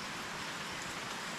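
Steady rain pours down around a tricycle in the Philippines, a dense, even hiss of drops drumming on surfaces with no pauses, close and continuous.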